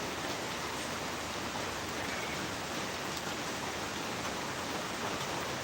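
Steady rain falls in an even, unbroken hiss that stays at a constant moderate level throughout, with no voices or other distinct sounds.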